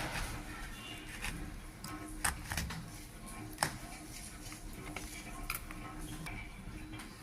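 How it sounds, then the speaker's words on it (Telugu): A knife chops citron (dabba fruit) with the peel still on into small pieces, giving irregular close taps and clicks against a board over a soft background. "ముందుగా ఈ దెబ్బకాయని చిన్న చిన్న ముక్కలు కట్ చేసుకోవాలి"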